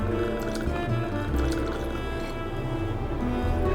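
One ounce of gin poured for a French 75 cocktail, a loud, close, continuous liquid trickle and fill lasting a few seconds with no speech.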